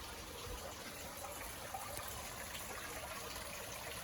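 Faint, steady trickling water in a yard fish pond, a soft continuous splashing flow with no voices.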